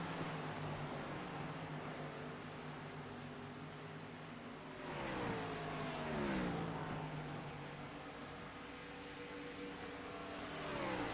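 Race car engines roar in a racing video game drag race at Indianapolis between a Ford Mustang and a Toyota Supra, with engine tones climbing and shifting through gears as cars pass, fairly steady and distant with no speech.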